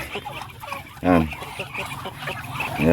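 Ducks quack and honk in a loose cluster, one loud call standing out, with a voice speaking nearby.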